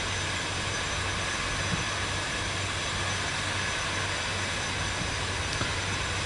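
Aircraft taxiing on the ground in Microsoft Flight Simulator 2024, a steady jet engine whine and roar holding constant at moderate loudness throughout, no talking.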